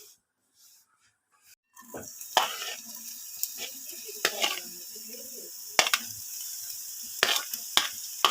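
Onions go into a hot pan for a curd and eggplant dish and start frying, with a soft sizzle rising after a quiet start and scattered scrapes and stirring clicks over it.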